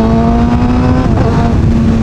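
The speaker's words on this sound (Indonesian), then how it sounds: "so aku ambil motor dia untuk buat panah-panah enjin lah" Close, loud Kawasaki ZX636R engine holding a high, steady note, with a slight dip and recovery midway, heard alone without speech.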